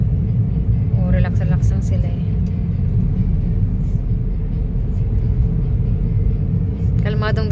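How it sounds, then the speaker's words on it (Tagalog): Cars passing fast on a provincial road, a loud continuous rumbling drone of traffic with brief whirring passes, while people talk over it. "Ang mabibilis ang sasakyan dito."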